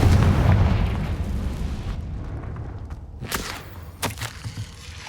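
A Confringo blasting curse in Hogwarts Legacy explodes with a heavy, rumbling boom that fades into scattered debris cracks and a few sharp follow-up pops.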